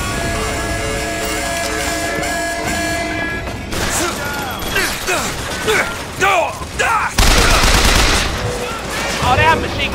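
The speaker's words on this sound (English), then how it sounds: "Oh, they have machine guns." Machine gun fire in the video game Bioshock Infinite, rapid bursts of gunfire and mechanical clatter over game ambience, growing louder and denser toward the end.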